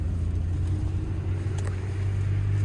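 A Toyota Sienna minivan drives along a slushy, snowy road, a steady low engine and road rumble with a constant hiss of tires in slush, close and unbroken throughout.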